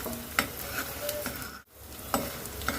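Edible gum (gond) fries in ghee, a close, gentle sizzle broken by a few sharp ticks and pops of a spoon stirring against the pan, with one brief quiet gap midway.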